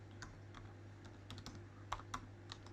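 Password being typed on a Mac computer keyboard at a login screen, a run of light, irregular key clicks with a few sharper taps, close but quiet over a steady low hum, no voices.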